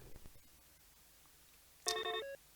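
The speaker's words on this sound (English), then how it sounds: "Oh, and we got a vid phone call as well." A vid phone call rings in The Pandora Directive, a short electronic tonal ring heard once, clear and moderately loud against a quiet background, with no talk.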